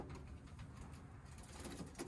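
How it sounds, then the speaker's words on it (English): Coturnix quail kept in a small pen, five birds sharing a few square feet, give soft low cooing calls, faint and close, against quiet background noise with no talking. "I got 5 birds in here"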